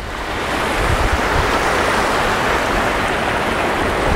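A garden stream pours down a stone slope into a pond, a steady, full, broadband rush of flowing water with constant loudness and no voices or breaks throughout.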